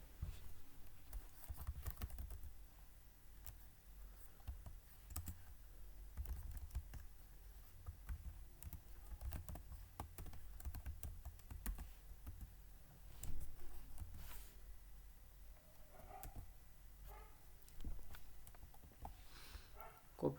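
Someone types code on a computer keyboard in irregular bursts of soft, quiet key clicks that continue for about twenty seconds, with brief pauses and no talking.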